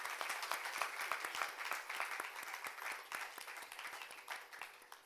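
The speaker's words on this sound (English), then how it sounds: "all of us have to give a round of applause for Party who's come to grace this occasion," An audience at a Bharatanatyam arangetram gives a round of applause, a continuous dense patter of hand claps heard quietly from a distance, without a break.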